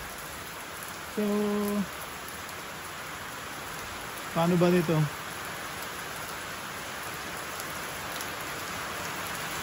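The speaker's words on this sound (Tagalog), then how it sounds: "Lakas ng ulan." Heavy rain pours steadily in a dense, even hiss, while a voice speaks briefly twice over it.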